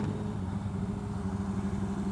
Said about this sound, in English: It's like he's shouting at me with his exhaust pipe.